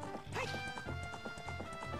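Horse hooves clip-clopping at a steady gallop in The Legend of Zelda: Ocarina of Time, with repeated rhythmic thuds over game music and ambience, fairly loud and continuous throughout.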